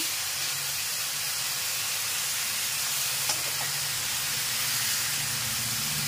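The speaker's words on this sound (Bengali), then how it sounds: "আদা যেগুলো আমরা পুড়িয়ে দিলাম ওটাকে এখন তেলের মধ্যে দিয়ে দিচ্ছি।" Ginger frying in hot oil gives a steady, even sizzling hiss that holds unbroken from start to end, fairly faint, with no voices.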